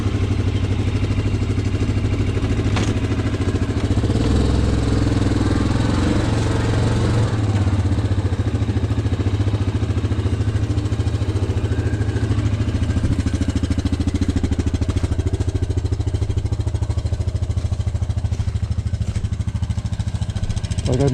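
Steady, loud running of an ATV engine out on a ride, a continuous mid-range drone with rattling clatter on top, lasting throughout without pause and without any talk.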